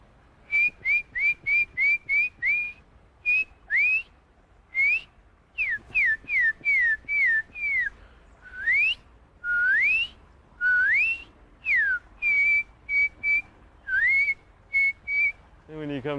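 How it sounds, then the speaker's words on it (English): A man whistles a tune while walking outdoors in a park, with clear, close pitched notes in short phrases that slide up and down, separated by brief breaths and pauses. "I like to whistle when I walk."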